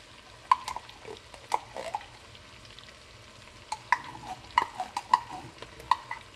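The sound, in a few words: tomato paste added and stirred into sizzling oxtail stew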